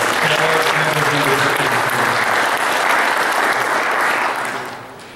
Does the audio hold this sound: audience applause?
yes